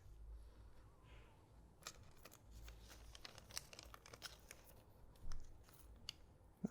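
Scissors snip and cut through a football-themed paper banner, with a series of crisp, close cuts and crinkling rustles of the material at moderate volume and no talking.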